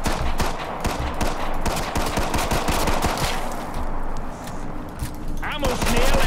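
Rapid, loud automatic gunfire from the video game Killing Floor 2 rattles almost continuously through the stretch in dense bursts, with a player speaking over it.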